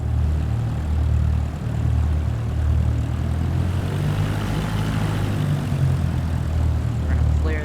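A Cessna in Microsoft Flight Simulator 2024 drones with a loud, close propeller engine that holds a steady hum and then briefly surges in power.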